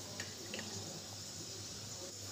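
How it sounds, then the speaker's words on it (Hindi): Tap water runs into a blender jar to rinse out ground spice paste in a home kitchen, a soft steady splashing and trickling heard fairly quietly and close up, with no talk. "बहुत मसाला हमारा जार में लगा हुआ है, तो थोड़ा पानी डालकर फिर से मैं इसे निकाल लूँगी"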